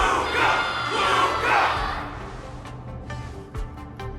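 A game crowd at a Wardance event roars and cheers in a loud, dense mass, swelling in waves before thinning out to scattered shouts.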